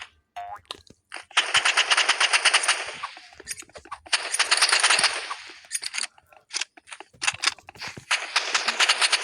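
Rapid bursts of automatic gunfire from the Roblox game Rivals, several rattling volleys separated by short gaps and scattered single shots, loud and close with no talking.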